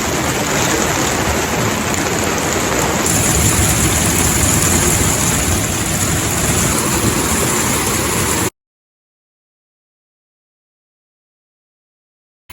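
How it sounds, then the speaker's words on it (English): Heavy, steady rain pours down on a camper with a dense hiss and rumble for several seconds, then cuts off abruptly into silence. "and this pouring rain"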